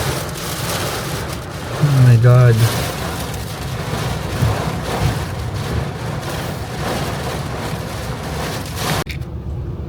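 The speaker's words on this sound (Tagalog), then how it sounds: "ang lakas ng hangin at ulan" A strong thunderstorm with heavy rain and gusting wind batters a vehicle stuck in Middle East traffic, a continuous rushing roar with a louder surge early on, while a person exclaims over it.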